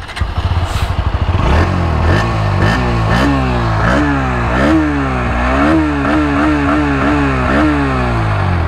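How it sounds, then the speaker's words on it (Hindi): A 2023 Bajaj Pulsar NS160 underbelly exhaust starts up and revs repeatedly, the engine note rising and falling in a steady rhythm of blips, loud and close. "पहले हम इसके एग्जॉस्ट के साउंड सुना देता हूँ"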